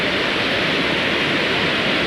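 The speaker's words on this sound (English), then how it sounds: "the iconic Kleiverfossen waterfall, one of the most photographed in Norway" Kleiverfossen waterfall near Olden, Norway, tumbling down a valley, heard as a loud, steady broadband roar of rushing water, close and unbroken, with no voices.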